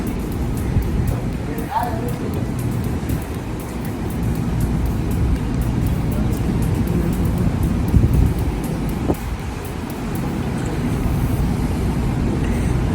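Wind rushes across the open deck of the Celebrity Ascent cruise ship at sea, a steady, blustery roar buffeting the microphone for the whole stretch.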